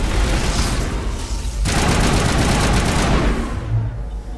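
Dense sustained automatic gunfire from the video game Mass Effect, a continuous loud fusillade of rapid shots that pauses briefly and then resumes even heavier, with no talking.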